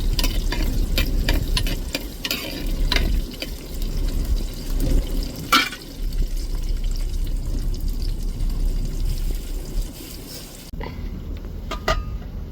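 Sliced onions fry in hot oil in a pan while tempering for a South Indian fish curry, with a steady sizzle and the scrape of stirring throughout. Sharp clacks of a spatula against the pan break through close by.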